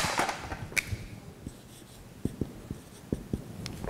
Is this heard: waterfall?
no